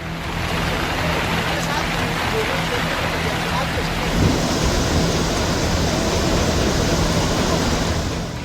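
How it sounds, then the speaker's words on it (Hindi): A flooded Chenab river surges past its danger mark, a loud, unbroken roar of rushing water that holds steady throughout with no pause. "खतरे के निशान पार बह रही है चिनाब नदी।"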